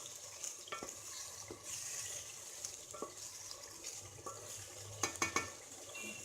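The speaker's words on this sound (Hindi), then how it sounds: "इस तरह से हमें इसे अच्छी तरह से भून लेना है।" Mutton with mint stirred and fried over a full flame, a steady soft sizzle broken by scattered clinks and scrapes of the spoon in the pan, faint and close.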